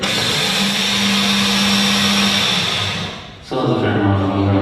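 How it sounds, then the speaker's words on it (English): A kitchen blender grinds seeds into flour in a loud, steady whir. About three seconds in, the motor dips briefly and then roars back up close by. "So now I just want to get to blend it up and turn the flour."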